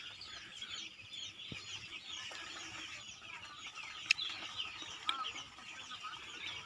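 Broiler chicks on a poultry farm, housed on paper-lined litter, give a continuous chorus of soft high peeping and chirping, with a few sharper nearby cheeps standing out from the steady background chatter.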